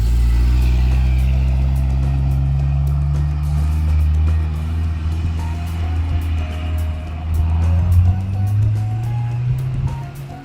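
A Celica RA64 with a swapped 1UZ V8 pulls away with its pop-up lights raised, a loud steady engine drone rising and falling in pitch as it drives off, staying fairly close throughout.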